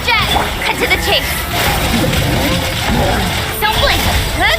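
A water jet attack in Genshin Impact splashes and sloshes loudly beneath energetic character voice lines and game effects, the watery bursts mixed with chiming tones throughout the short stretch.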